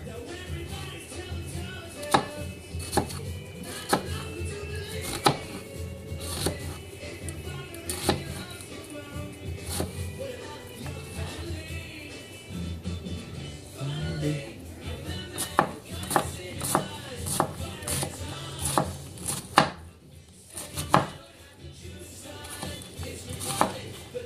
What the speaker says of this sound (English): Well, it cuts an onion.